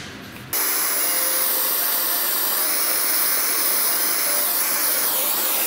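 A torch brazing a drilled steam engine piston part gives off a loud, steady roaring hiss that starts abruptly after half a second and holds unbroken to the end, with no talk over it.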